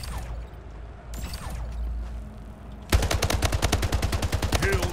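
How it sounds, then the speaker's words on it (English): An assault rifle fires in the video game Splitgate as a rapid, steady automatic burst, loud and close, following a stretch of quieter game ambience and mechanical clicks. "My assault rifle."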